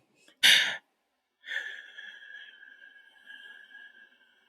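Slow guided breathing: one quick, sharp inhale through the nose, a brief pause, then a long, steady exhale that trails off softly, heard close up with no talking.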